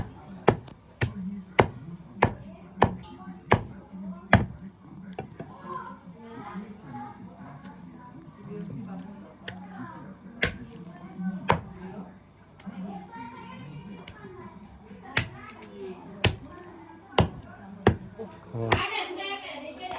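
Village-style cleaver blows chopping chicken pieces into small bits, a run of sharp regular thuds that pause midway and then resume, while people talk throughout.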